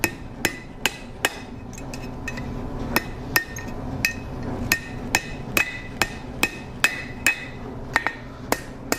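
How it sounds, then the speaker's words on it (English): A hammer taps cooled steel on the horn of a blacksmith's anvil while an S hook is forged, about fifteen sharp ringing strikes at a steady, slightly uneven pace, close and clear with no talk. "Cool that off to the horn on the anvil. Tap that around."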